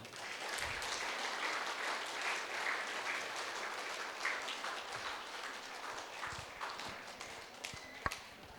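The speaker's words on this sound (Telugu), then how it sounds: "గట్టిగా చప్పట్లు." An audience at a two-day spiritual music and meditation gathering breaks into loud, sustained applause, with dense steady clapping throughout and a few sharper claps near the end.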